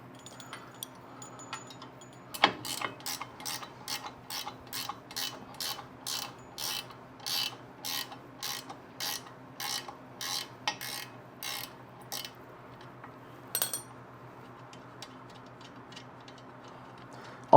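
A ratchet wrench with a 13 mm socket turns a highway peg bolt on an Indian motorcycle, giving a run of about twenty crisp, evenly spaced clicks, close and clear with no talk.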